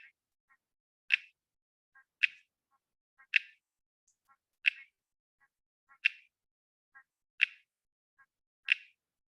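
A monsoonal clicker-type Uperoleia toadlet calls alone, giving sharp, faint clicks that repeat at a steady pace, roughly one every second, each followed by a softer tick.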